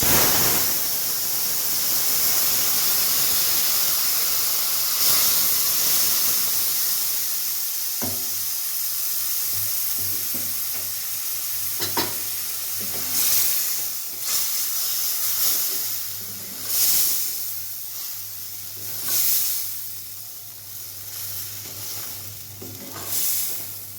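Raw mung dal with bottle gourd greens simmering in a pot, giving a steady hiss and bubbling with a few soft stirring scrapes, close and fairly loud throughout.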